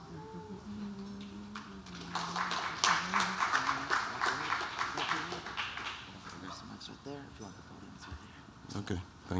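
Audience applause welcoming the next speaker at a talk on ancestral cultural heritage and financial sustainability, a dense burst of clapping building after a few seconds and fading, with a voice speaking over the start.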